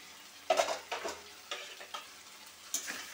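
A desi rooster curry of about 1.5 kg simmers in a pot. Quiet, irregular scraping strokes from stirring rise over a faint background sizzle, close and without talk.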